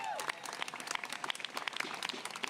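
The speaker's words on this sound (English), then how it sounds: "Huge round of applause to them." An outdoor audience claps at a Brooklyn Bridge anniversary celebration and park opening, with steady, fairly faint applause continuing throughout.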